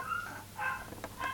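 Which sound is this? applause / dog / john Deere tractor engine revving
dog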